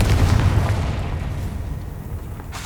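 Booming explosive blast from the Confringo spell in the Hogwarts Legacy video game, a loud, sustained rumbling burst that slowly decays over a couple of seconds.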